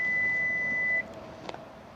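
A Hyundai NEXO hydrogen fuel cell car sounds a steady electronic warning tone because the key was left inside with the system running; the tone holds for about a second and then cuts off, leaving faint background noise with a small click.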